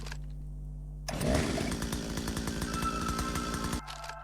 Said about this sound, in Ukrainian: У нас є бензопила.